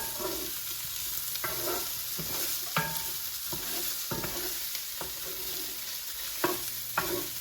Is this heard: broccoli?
yes